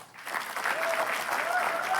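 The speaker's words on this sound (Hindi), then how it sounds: "तो उर्फी के लिए एक जोरदार तालियां बजाएंगे" A crowd at a comedy roast show claps for a guest, a brief, steady patter of many hands at moderate loudness with a faint whistle-like tone over it.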